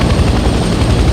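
Helicopter flying in the Vietnam Hell Let Loose video game, a loud, steady rotor thump and engine roar filling the whole moment, close and unbroken, with no voices.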